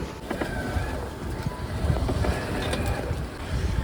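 A sailboat under way in about 16.5 knots of southwest wind between Caernarfon and Dublin, with a steady rush of wind and water noise and a low rumble of the hull, loud and continuous.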